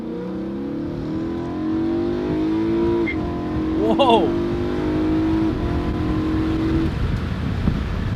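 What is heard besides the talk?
BMW E90 M3 engine revving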